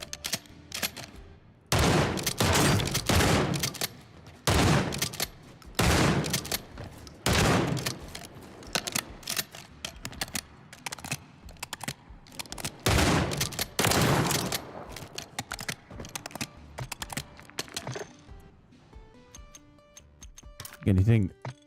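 Rapid gunfire from a weapon in a shooter video game, bursts of fast shots repeating over about twenty seconds, loud and close, with a voice talking between and over the bursts.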